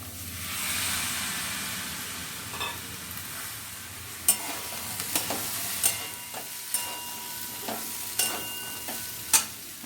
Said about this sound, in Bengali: এবার আমি মটরশুঁটিগুলোকেও দিয়ে দেবো।